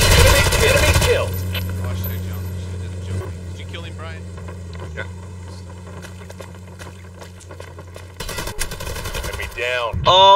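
Automatic gunfire in the Hired Ops shooter game, with bursts of rapid shots and impacts over steady engine-like game noise, plus other game effects and voices.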